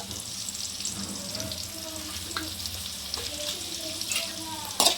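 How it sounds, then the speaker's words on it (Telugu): Green chillies sizzle in hot oil with turmeric and asafoetida, a steady close crackle with light stirring scrapes throughout and a brief clatter at the very end, with no talking. "ఈ పచ్చిమిర్చి ఫ్రై అవ్వనివ్వండి"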